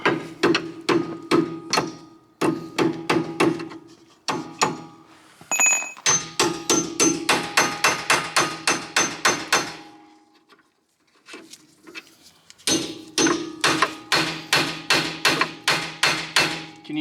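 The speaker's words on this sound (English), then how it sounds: "Right, hammer." A hammer driving a part into a BMW V8 suspension: runs of sharp, evenly spaced blows close by, broken by two short pauses and then resumed in a quick steady rhythm.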